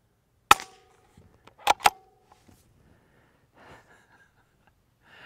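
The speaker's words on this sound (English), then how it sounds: "the sound of it hitting the berm, because it's so dry" Suppressed rimfire shots through a full titanium modular silencer at an outdoor range with a dry dirt berm: one sharp crack, then a quick pair of muffled reports with impact snaps, followed by faint handling sounds.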